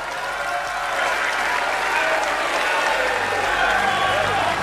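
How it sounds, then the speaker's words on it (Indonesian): Audience applause at a 2024 Indonesian presidential campaign rally, a steady dense wash of clapping from a large crowd filling the whole stretch, loud and continuous with a slight swell toward the end. "Beri tepuk tangan yang mulia untuk Bapak Prabowo Subianto"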